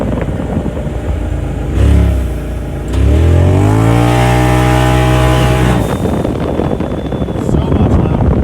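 A 2019 Polaris RZR Turbo S side-by-side with an ECU flash revs hard with its exhaust valve open, a loud rising and falling engine roar swelling to a high sustained howl before dropping back to a rumbling idle.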